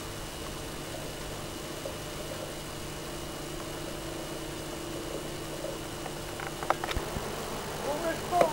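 Bees buzzing steadily at a rural apiary in August, a soft continuous drone that carries throughout, with a few faint knocks and rustles near the end.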